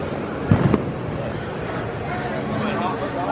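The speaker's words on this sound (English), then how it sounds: "There's fireworks in the background." Fireworks go off in the distance on a rainy night at EPCOT, Walt Disney World, as a brief cluster of muffled low booms early on over a steady outdoor background murmur.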